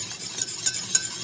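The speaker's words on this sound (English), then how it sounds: "Stir it really, really well." A spoon stirring clam chowder in a pot, a brief run of soft, wet scraping and swishing strokes at close range with a faint sizzle beneath.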